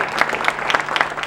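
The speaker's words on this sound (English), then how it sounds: "Appreciative applause from this crowd" A crowd of residents at a community meeting in the Hawthorne Memorial Center claps in appreciation, a brief, dense patter of hands at moderate loudness.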